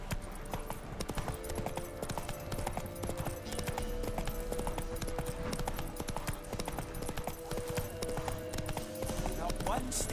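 Roach the horse gallops in a video game, a steady run of clip-clop hoofbeats carrying through the whole stretch, with a brief whinny and game sounds layered underneath.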